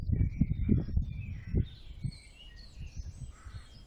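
Outdoor birds call in the background, with a crow cawing and fainter chirps, over a low rumbling ambience.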